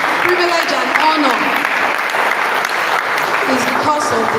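An audience claps steadily throughout at a World Laboratory Day ceremony honoring the provost, the applause dense and sustained with voices mixed in.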